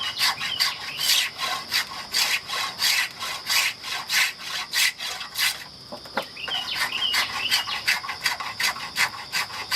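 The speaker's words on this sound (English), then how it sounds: "this spoke shave cutting nice and clean on this spindle" A spokeshave shaves a wooden chair spindle in repeated close, crisp cutting strokes, a steady rhythmic series of rasping swipes with a brief pause midway, and birds are faintly audible behind.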